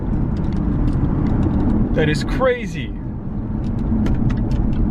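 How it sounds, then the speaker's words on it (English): A salvaged Jaguar XK drives along with a steady, loud low engine and road rumble, and someone speaks briefly over it midway. "Guys, I think I scored with this car. It is running flawlessly."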